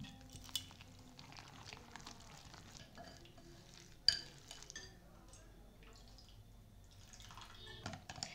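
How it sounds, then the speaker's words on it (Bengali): A spoon stirs a thick batter of flour, salt and water in a bowl for Bengali patisapta pitha, with soft wet scraping and occasional light clinks against the bowl, faint and close. "অল্প অল্প জল দিয়ে ঘন ব্যাটার তৈরি করে নেব।"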